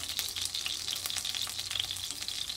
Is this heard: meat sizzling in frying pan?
yes